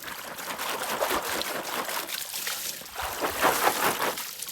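Running water pours steadily over a crate of radishes being washed, a continuous close trickling and splashing with no talk over it.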